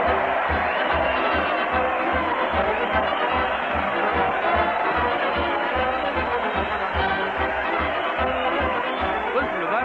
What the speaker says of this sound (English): Listen to that crowd cheer Fred Allen as he leads his parade to the old Town Hall